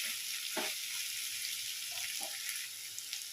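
Mixed vegetables stir-fried for Kolkata restaurant-style Hakka noodles give a steady, close hiss of sizzling oil, broken by a few soft scrapes and taps as the pan is stirred.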